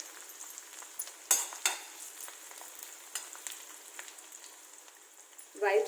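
Green chillies and garlic, both finely chopped, hit hot oil in a pan and crackle with a steady near sizzle, punctuated by a few sharp stirring clatters and a louder burst at the end.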